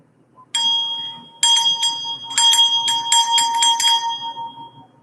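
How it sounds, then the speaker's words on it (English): A small bell rung in a run of bright metallic strikes, first two single rings, then a quick cluster of repeated jingles, close and loud with nobody talking. "Let's ring the bell for a kiss."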